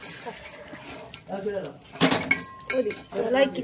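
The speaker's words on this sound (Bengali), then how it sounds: "চাল দিয়ে আমি একটু ঘিতে নাড়াবো, ঘি দিয়ে" A spoon scrapes and clinks against a pot while rice is stirred in ghee, with intermittent metallic scraping strokes and knocks. Several people talk throughout.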